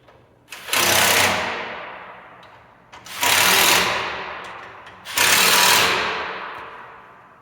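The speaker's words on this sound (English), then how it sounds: "just go ahead and bolt the lights right back in" A power tool drives bolts to refit Oracle lights on a 2021 Ford Bronco Wildtrak, three loud whirring bursts of about a second each that wind down between pauses, with no talk.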